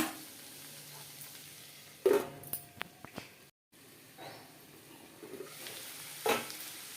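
Cluster beans (goruchikkudu) fry in a pan with a quiet, continuous sizzle, interrupted by a few bursts of scraping and stirring, plus a brief dropout to silence midway.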